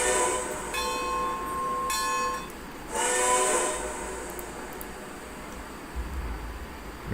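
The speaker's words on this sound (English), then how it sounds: "It's a 70-ton Climax, and this is actually one of the characters in North Valley Shortline named Vivian. And so, blow the whistle" The multi-note chime whistle of a 70-ton Climax locomotive fitted with an Atlantic Coastline 6 chime, in a train video game, blown in three separate blasts of varying length over a low rumbling background.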